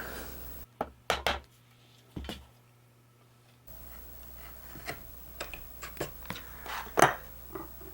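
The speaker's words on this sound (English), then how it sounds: "To ensure that this cross cut is nice and clean, I'm going to create a knife wall." A knife scoring a knife wall into wood for a dovetail cross cut: a few sharp, separate clicks and taps at first, then quieter scraping strokes with a stronger tick near the end, close and fairly faint.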